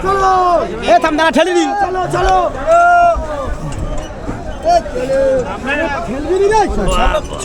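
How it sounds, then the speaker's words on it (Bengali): Dense crowd hubbub on a busy platform at Jaynagar railway station on the Sealdah–Namkhana local line, many overlapping voices chattering close by, loud and continuous. "তো জয়নগরে প্রচুর ভিড়"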